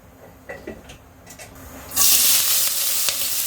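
Cooking oil hits a hot pan and bursts into a loud, bright sizzle that continues steadily, following a few soft clinks and kitchen sounds, while preparing a prawn curry with bean seeds, yardlong beans and okra.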